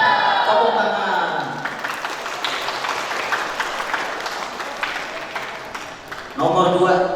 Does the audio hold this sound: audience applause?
yes